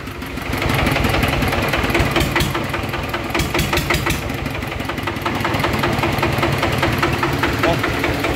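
A Kubota diesel engine idles with a steady, loud mechanical chugging. The sound is continuous and near, and no voices are heard.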